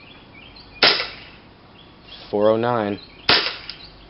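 A KWA MP7 gas airsoft gun fires 0.2 gram BBs with the stock bolt: two sharp, loud single pops about two and a half seconds apart, and a brief spoken number between them.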